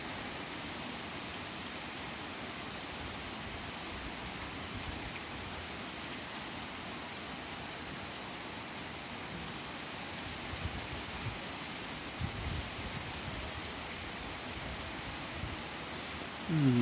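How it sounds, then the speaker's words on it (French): Steady rain falling during a spring thunderstorm in Meyzieu, France, a continuous broadband hiss of drops on the road and surfaces, moderately loud and unbroken, with no voices. "Oh, ça recommence à pleuvoir."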